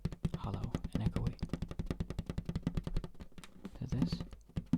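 Light, rapid tapping on a hollow toy fire hat, bright clicky taps in a quick, uneven patter with a hollow, echoey ring, close and soft in a quiet room.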